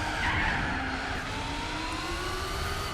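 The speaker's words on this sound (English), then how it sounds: "Can you hear my car squealing when I'm putting the power down?" Car tyres squeal under power in the racing game Gran Turismo 4, with a steady, loud whine of rubber over the engine drone, sustained for the whole stretch.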